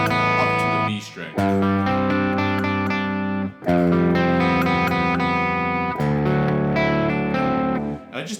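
An electric guitar in drop D plays sustained, heavily distorted chords with a chorus effect, strummed in several held blocks with brief gaps between changes, loud and close.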